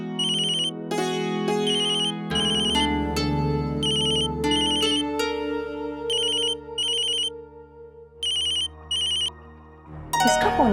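A mobile phone ringtone rings loudly in a home, a bright repeating melodic tune playing through several cycles over soft background music.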